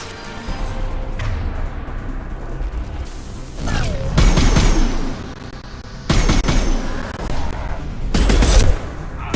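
High-impact gunshots in the Mass Effect 2 video game: loud, heavy blasts hit in a few separate bursts, each with a crashing impact, over a busy combat backdrop with mechanical noises.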